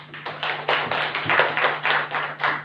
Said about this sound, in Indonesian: Tepuk tangan untuk yang itu.